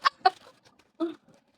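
A chicken clucks nearby during an indoor unboxing, with a few short, fairly loud clucks followed by a softer, drawn-out call and then quiet.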